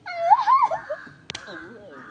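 A puppy whimpers and yips in high, wavering cries up close, followed by a brief sharp knock, with a person talking faintly.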